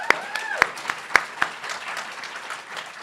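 Sparse applause at a moot court finals ceremony honoring board members: a handful of distinct, sharp hand claps spaced irregularly over a faint room hiss, thinning out toward the end.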